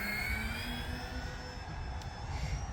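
Twin piston engines of a Beechcraft D18 drone steadily at full power during a go-around, a constant loud propeller roar with a slowly rising whine and no break.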